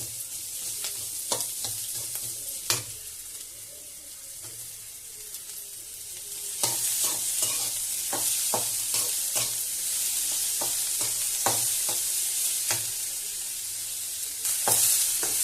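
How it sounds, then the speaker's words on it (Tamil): Onions sautéing in a pan for ridge gourd chutney, a steady sizzle broken by repeated scraping stirs of a spoon against the pan, with denser stirring in the second half. "இப்போ வெங்காயமும் சேர்த்து நல்லா வதக்கிட்டோடனே அது கொஞ்சம் ப்ரௌனிஷா வந்தோடனே"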